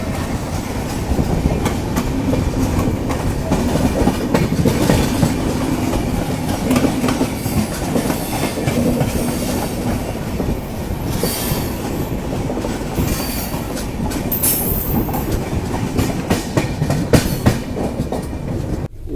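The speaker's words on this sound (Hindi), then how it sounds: "सामने अराइव हो रही है गोलकोंडा एक्सप्रेस, गुंटूर से सिकंदराबाद जाने वाली" The Golconda Express, running from Guntur to Secunderabad, rolls into Warangal railway station with a continuous loud rumble of wagons, rhythmic clickety-clack over rail joints and occasional wheel squeal.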